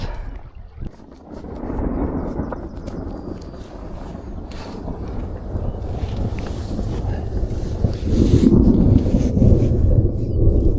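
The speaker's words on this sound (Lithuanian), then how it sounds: "Slepiuosi nuo griaustinio." Deep thunder rumbles on and swells louder toward the end, mixed with heavy wind buffeting the microphone outdoors during a thunderstorm.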